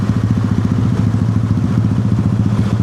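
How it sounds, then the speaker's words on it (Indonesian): A loud motorcycle rumbles close by beside an LRT construction site in Jakarta, its steady, throbbing engine noise filling the short stretch. "Ada motor berisik banget."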